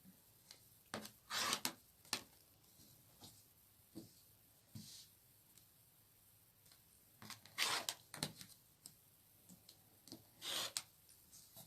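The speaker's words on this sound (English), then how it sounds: "we'll just take our rotary cutter and our ruler, and we'll cut them apart" Rotary cutter run along a ruler slicing through fabric on a cutting board, heard as several short, sharp tearing swipes spaced apart with quiet pauses between them, close and fairly soft.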